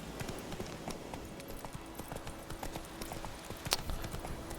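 A horse in a video game moving at speed, its hooves making a quick, rhythmic clip-clop under a low, soft game soundscape, fairly quiet, with no talk over it.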